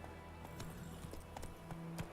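Geralt's horse Roach gallops in The Witcher 3, a quick run of soft, faint hoofbeats in a steady rhythm, with no talking.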